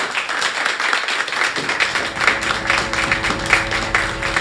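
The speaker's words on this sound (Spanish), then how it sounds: "Gracias, gracias por los aplausos." Audience applause in a Hong Kong nightclub greeting a romantic singer as he is introduced, a dense steady wash of clapping with faint music tones underneath and no voice on top.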